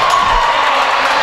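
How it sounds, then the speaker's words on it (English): A homecoming crowd at a boys varsity high school basketball game roars steadily in the gym, a sustained loud wall of cheering and shouting with a commentator's voice faintly underneath. "crowd is getting amped right now"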